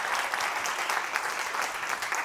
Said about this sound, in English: let's give all of our PechaKucha presenters one more round of applause